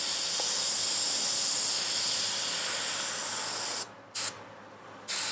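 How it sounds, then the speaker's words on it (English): An airbrush sprays thick white paint in a steady, close hiss that cuts out abruptly twice near the end, with brief bursts between pauses. "This white's quite thick, it's not spraying as well as otherwise could."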